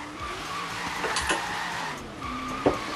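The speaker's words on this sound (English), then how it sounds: "kind of messed up that drift there" A Corvette's tires screech and skid while drifting in the racing game Forza Horizon 3, with wavering squeal tones rising over a continuous engine roar and a brief thump near the end.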